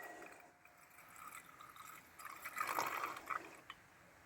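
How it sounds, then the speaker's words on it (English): Hydrochloric acid poured into a container, a faint, quiet trickle and splash that rises briefly in the middle before tapering off. "we're going to go ahead and pour the hydrochloric in first"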